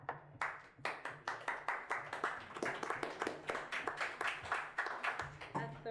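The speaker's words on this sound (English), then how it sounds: "I know we're not supposed to clap" Audience clapping breaks out at a city council meeting, a dense run of sharp overlapping claps that swells and continues steadily for several seconds, with a voice heard faintly underneath.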